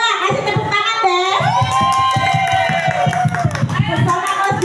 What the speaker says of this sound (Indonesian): Kasih tepuk tangan deh.